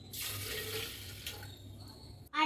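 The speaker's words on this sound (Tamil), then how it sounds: "தண்ணி ஒரு தம்மல் சேர்த்துக்கோங்க." A tumbler of water is poured for making juice, a steady close splashing stream lasting about two seconds before a sharp clatter at the end.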